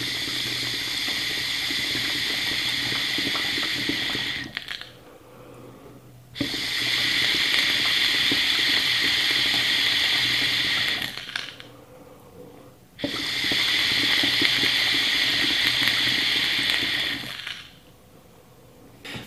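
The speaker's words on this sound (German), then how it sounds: "hier unten das Wasser drin, das sollte man jetzt auch blubbern sehen" Water bubbles inside a shisha fitted with an electric head during three long draws, each a loud, close gurgling rush of several seconds separated by short quiet pauses.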